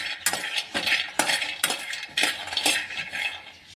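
Cashews and almonds being dry-roasted and stirred in a metal pan on a gas stove, with repeated scraping clinks of a spoon against the pan in a steady rhythm, close and fairly loud, without talk.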